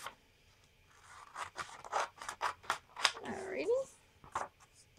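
Scissors snip through a paper junk mail window envelope in a quick run of close, crisp cuts, followed by a longer rustling slice.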